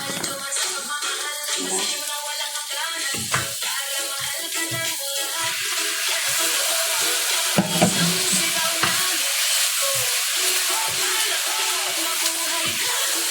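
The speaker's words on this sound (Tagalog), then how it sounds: "Gisa mo lang siya hanggang maglabas na yung amoy niya, yung aroma." Aromatics sauté in a hot pan with a steady, close sizzle, broken by scraping stirs and soft clinks of a utensil against the pan. Faint tonal sounds sit underneath throughout.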